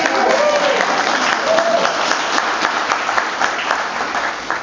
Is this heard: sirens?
no